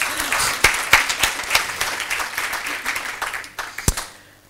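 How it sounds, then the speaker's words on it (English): A conference audience applauds at a regional business event, dense hand clapping with distinct sharp claps popping out near the listener, swelling early and then tapering off to quiet at the end. "A big round of applause, right?"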